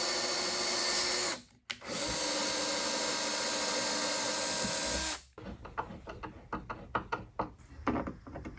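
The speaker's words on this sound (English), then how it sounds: "now I'm drilling a couple holes up top for our motor controller" A power drill whines steadily for several seconds while drilling holes in an industrial sewing machine table, cuts out briefly, runs again, then stops, followed by scattered clicks and handling noises nearby.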